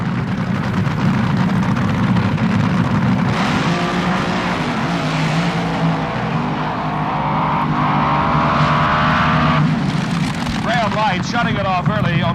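A loud drag racing car engine roars continuously during a 1978 NHRA Gatornationals run, with rising harmonic whine as it accelerates, and a voice talking over the engine noise throughout.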